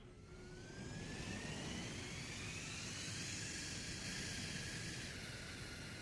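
Falcata engine from a Halo 3 mod: a roaring, jet-like whine that swells in after a quieter start, then holds steady with faint rising tones over a broad rushing noise, and no voices.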